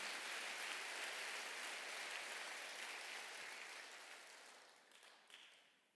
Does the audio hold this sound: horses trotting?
no